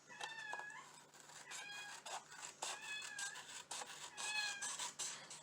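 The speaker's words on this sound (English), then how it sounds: "I guess you can hear my kitten playing. She talks to her little toys when she's playing." A kitten playing with its toys lets out a series of short, high, quiet meows with small pauses between them; there is no talking and only a faint steady hum underneath.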